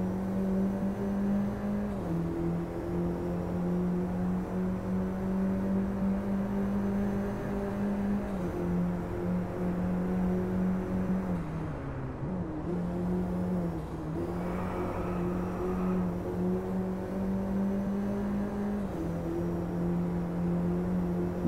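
A Mini Cooper JCW GP with a 1.6 16V turbo engine and six-speed manual drones steadily on a British track in the Driveclub racing game, heard from inside the cabin, with brief dips and shifts in pitch.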